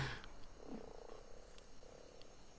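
Frog croaking in the video game Ark Survival, a few low, soft, drawn-out croaks over faint, steady background noise, quiet and without speech.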